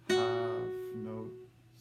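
A guitar sounds two loud half notes, each struck firmly and left to ring and fade before the next, alone and close.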